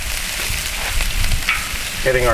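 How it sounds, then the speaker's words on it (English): Garlic sizzles and pops in melted butter on a hot Blackstone griddle while scallops cook, a loud, close, continuous frying hiss with stirring scrapes and a few sharp spatters. "butter all in the pan. Garlic popping a little bit. That's good, nice and hot."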